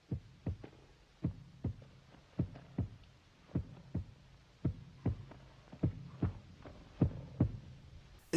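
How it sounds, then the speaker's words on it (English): A slow, steady heartbeat effect from the Spanish horror film Tombs of the Blind Dead, soft paired thumps repeating evenly over a low hum, with no voices. "All that was needed was a simple heartbeat."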